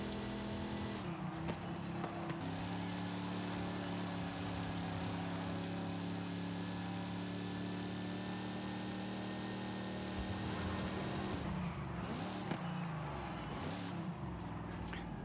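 A Dodge Coronet engine in Forza Horizon 5 holding a steady, loud drone down a long straight, with gear-change dips before it surges on again.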